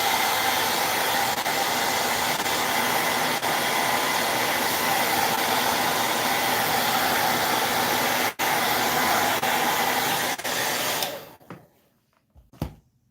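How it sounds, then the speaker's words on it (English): A hair dryer blows with a loud, steady whir for about eleven seconds, briefly dipping once, then switches off and falls quiet. "I'm just going to run the hairdryer a second and get rid of the glue strings"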